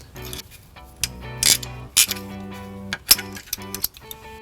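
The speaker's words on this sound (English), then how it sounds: "we're going to remove these 2 plastic plugs in the frame rail" Two plastic plugs pried out of the frame rail of a 2011 Lexus RX350 on the driver's side, heard as a few sharp plastic clicks and pops with scraping handling noise in between, close and moderately loud.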